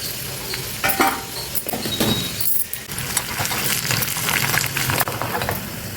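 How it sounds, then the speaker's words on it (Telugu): Close, loud crackling and sizzling of dried red chilies, cumin, crushed small onions and dals frying in hot oil for tomato rasam, with spoon stirring and scraping throughout. "ఈ పప్పులన్నీ వేగినాయండి చక్కగా"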